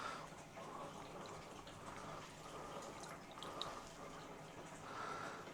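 Plant roots are washed in clean water during repotting, giving faint, continuous trickling and dripping with soft splashes, close by and quiet, with no talking.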